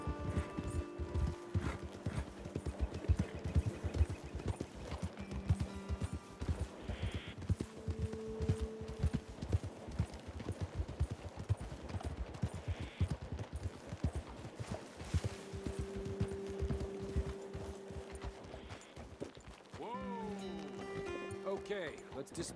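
Horses ridden up a slope toward a ledge in Red Dead Redemption 2 clip-clop in a steady walking rhythm, loud and close, heard under ongoing talk, ending as the riders dismount.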